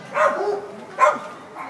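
A search and rescue dog barks during a public demonstration at a simulated earthquake-damaged site, giving two sharp, loud, close barks about a second apart, followed by a softer yelp.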